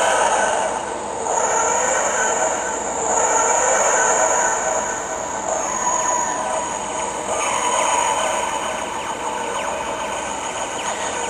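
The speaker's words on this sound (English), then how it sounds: "the famous TARDIS sound effect." A Doctor Who flight control TARDIS toy plays the famous TARDIS sound effect, a rising and falling wheezing, grinding whoosh that swells in waves, loud and continuous for around eleven seconds, with nobody speaking.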